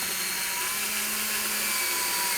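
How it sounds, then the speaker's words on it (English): A power drill whirs steadily at close range, driving screws into a floating shelf board, one continuous even buzz with no talk. "I'm going to have you run the next two screws in"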